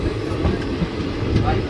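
Train rolling into Vadia railway station, loud rumbling wheels with rhythmic clatter on the rails, heard close from on board.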